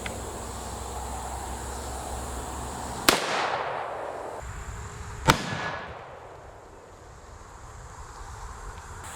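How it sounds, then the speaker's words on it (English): Two sharp, loud rifle cracks from a 30-06 firing tracer rounds at blacksmith-made armor, a couple of seconds apart, each followed by a fading echo over a low outdoor rumble. "Okay, gonna shoot this bad boy with a tracer, see what she does."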